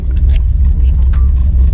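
A car fitted with a 3000 stall torque converter pulls away under a steady low engine rumble, loud and close, with faint clicks and rustles above it.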